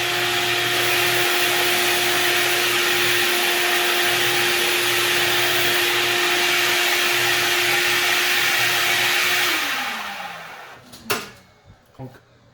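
A faulty Jet J-4002 bench belt and disc sander drones loudly and steadily with a whining hum, then winds down and stops, leaving a few clunks and knocks afterward.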